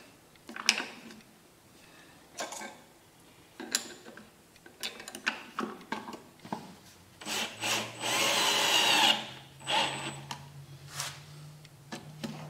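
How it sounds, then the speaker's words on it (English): A small power drill whirs in short bursts, then a longer sustained run, with rubbing and clunking handling noises in between, while working on a black gum natural edge bowl. "It's a little drill."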